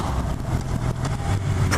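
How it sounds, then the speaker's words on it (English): A 2018 Honda CB1000R motorcycle on the move, its 4-2-1 exhaust giving a steady, throaty engine drone mixed with wind rush, close and constant for a brief moment. "That exhaust pipe gives a really nice note too."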